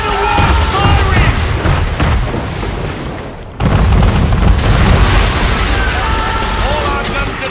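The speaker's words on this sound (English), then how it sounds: "Man of war firing!" Warship cannon fire and explosions from a man-of-war in Assassin's Creed III: loud, continuous booming rumble that dips briefly midway, then surges back with more blasts, with voices mixed in.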